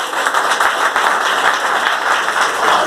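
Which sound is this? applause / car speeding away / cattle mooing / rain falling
applause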